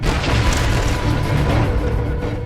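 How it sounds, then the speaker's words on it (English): Musket discharge rendered as a heavy, continuous booming roar, loud and close, filling the whole moment with a dense rumble and no voices. "After the muskets were discharged"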